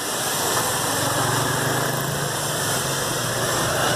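A Chiaperiri 14-litre pressure washer runs on an ordinary tap, giving a steady, loud motor drone with broadband spray hiss throughout and no pauses.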